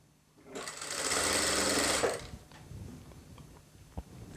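A sewing machine runs in one steady, loud burst of about a second and a half, stitching the side seam of a georgette kameez, then stops, leaving faint handling clicks and a small knock.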